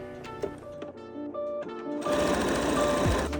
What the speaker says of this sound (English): When sewing over the ties, backstitch over the ends to reinforce them.